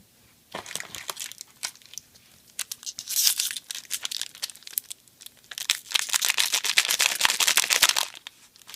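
Fate Reforged trading card booster packs are torn open and their foil wrappers crinkle close up in bursts of ripping and crumpling, with short pauses between them and no talk.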